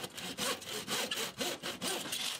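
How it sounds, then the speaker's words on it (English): A handsaw cuts through a polycarbonate roofing sheet resting on sawhorses, giving steady rhythmic push-pull strokes, about five in quick succession, close and fairly loud with no voices. "And then I'd simply cut with a handsaw."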